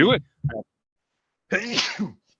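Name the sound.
sneeze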